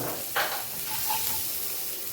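Green chili paste fries in a pan with an even, close sizzle, and a brief scrape of stirring sounds early on over the hiss, with nobody speaking.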